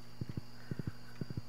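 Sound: horse hooves clip-clopping in Stardew Valley video game

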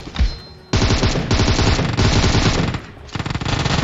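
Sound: gunfire, from video game PUBG Mobile

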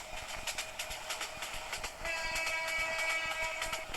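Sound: train passing in Train Simulator Bangladesh video game

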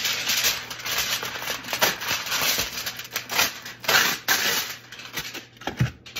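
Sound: aluminum foil being handled to cover a fries pan

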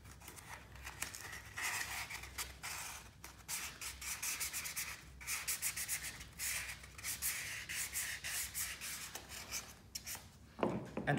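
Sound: sanding a kayak skeg blade with 600 grit sandpaper

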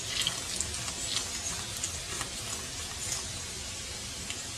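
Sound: pumping remaining water out of water filter

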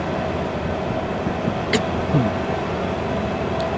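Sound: freight train in Derail Valley VR video game

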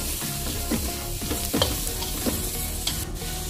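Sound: chopped onions frying in coconut oil, being stirred

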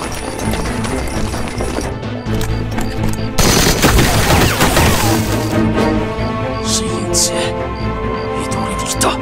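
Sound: gunfire in a war drama battle

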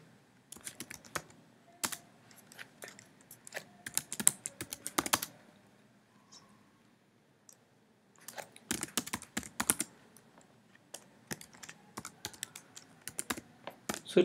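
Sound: typing an SQL command on a computer keyboard

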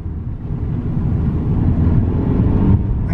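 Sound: car engine noise in sports mode

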